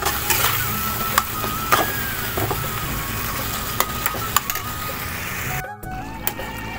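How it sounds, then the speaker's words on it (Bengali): Paneer butter masala sautéed and stirred in a pan, a steady close sizzle with sharp clinks and scrapes of a spoon against the pan scattered throughout, one brief dropout near the end. "পনিরের মশলাটা কষিয়ে নিচ্ছি"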